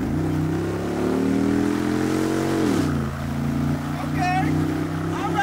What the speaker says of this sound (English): Do a little acceleration from 30